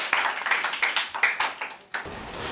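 Small audience at a school debate clapping, a few sharp uneven claps over about two seconds, close and fairly light, fading before a brief pause.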